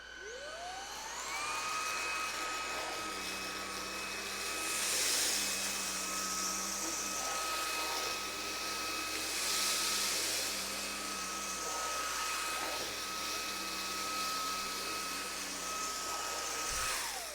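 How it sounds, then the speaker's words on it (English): A Klarpul cordless vacuum cleaner on max mode whines loudly as it sucks rice from carpet, with a rising spin-up then a steady high motor tone, surging as it passes over grains, under a faint voice. "Next up, we're gonna try the same mess, but on carpet"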